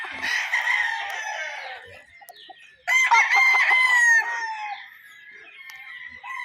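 Two long rooster crows close by, separated by a short lull with faint clucking, loud and clear with no voices.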